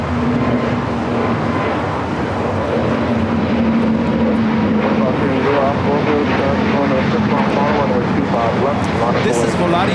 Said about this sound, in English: This is Volati 7849 taking off to Oaxaca on the A320neo.